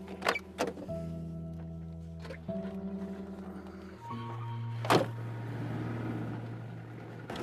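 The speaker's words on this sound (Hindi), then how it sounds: "गाड़ी रोको।" A car's drone shifts through several steady engine tones, one after another, broken by sharp clunks and a loud thump near the end, with no voices heard.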